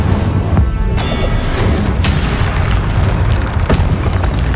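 Incendio fire spell in Hogwarts Legacy combat, a loud booming burst of flame with a rumbling low roar and crackling pops lasting several seconds, no talk.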